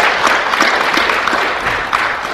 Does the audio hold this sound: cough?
no